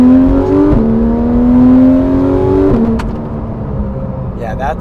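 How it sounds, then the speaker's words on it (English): A Porsche 911 GT3 RS revs loud and close in a hard launch, its engine note climbing steadily through a gear, dropping at the shift, then pulling again before easing off. "let's do a bit of a hard launch."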